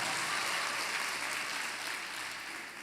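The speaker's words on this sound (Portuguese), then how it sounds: "Pode dar uma salva de palmas" Applause at a church worship service fills the space as a steady, dense wash of many hands, loud throughout and easing slightly toward the end, with no voices standing out.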